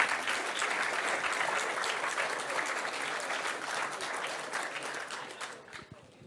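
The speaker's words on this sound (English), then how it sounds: "A round of applause." A crowd at a talk event gives a sustained round of applause, dense clapping at even strength that thins out and fades near the end, leaving a few scattered claps.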